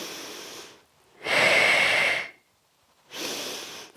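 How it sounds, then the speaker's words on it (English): Close, breathy exhales and inhales come in slow rounds during a Pilates exercise, with one long hissing breath followed by a shorter one and no speech. "So exhale and inhale. Exhale and inhale."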